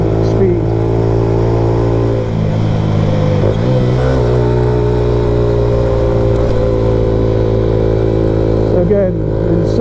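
A Honda CB125F motorcycle climbs a hill in second gear at about 30 mph, its engine giving a steady, loud, continuous drone with stable harmonics and wind noise throughout.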